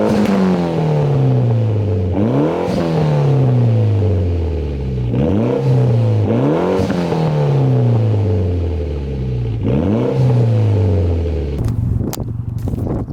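Straight-piped Mitsubishi Evo X exhaust revving hard in repeated bursts, each climbing then falling back to a loud, close, rumbling idle, with a few sharp clattering pops near the end.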